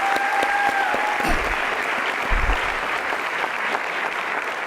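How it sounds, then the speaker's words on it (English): Applause rings out for graduating students at the Lamar Academy IB pinning ceremony, a broad, sustained round of clapping from a large audience, with a brief tone and a few low thumps early on. "Round of applause for our students for everything that they've done."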